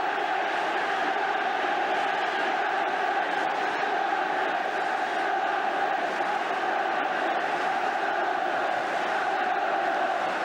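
Large football stadium crowd at a Liverpool v Manchester United Charity Shield match, a steady, dense roar of cheering and chanting that holds loudly throughout without any clear speech.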